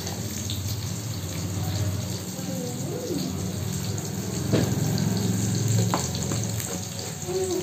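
Onions fry in a pan with ginger and garlic, a steady close sizzle that runs throughout while someone talks over it and occasional scrapes and clinks of stirring come through.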